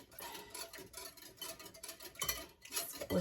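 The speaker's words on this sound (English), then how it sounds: "whisking, that is 1 minute." Hollandaise sauce whisked by hand in a jug, a quick irregular clatter of the whisk against the sides repeating throughout, close and moderately loud with no talking.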